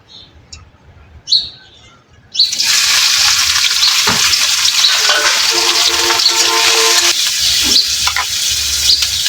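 Chapa shutki, dried fish, hits hot oil in a pan and sets off a loud, steady sizzle that runs on after a couple of faint clinks and a brief knock.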